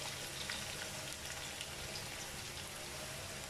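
Chopped onions hit spices already frying in a pan while cooking Thalassery-style irachi choru, producing a steady, hissing sizzle throughout.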